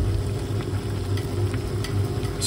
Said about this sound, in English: So you can see, it's boiling.